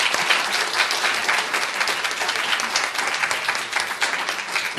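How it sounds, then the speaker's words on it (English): A launch ceremony audience breaks into loud, dense applause, a continuous full roar of many hands clapping that holds steady for several seconds without talk. "Shall we give him a round of applause as well?"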